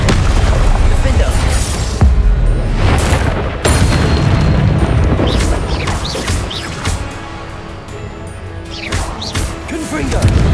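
Booming Confringo blasting-spell explosions burst repeatedly in a dense Hogwarts Legacy combat scene, loud and continuous, with sharp crashes layered over a rumbling low end and shouted spell voices mixed in.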